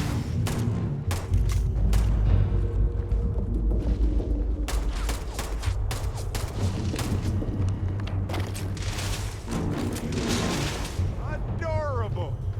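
Gunfire and booming blasts crack through combat in Starfield, with dense repeated shots and heavy low thumps over continuous game action, while a voice talks over the fighting.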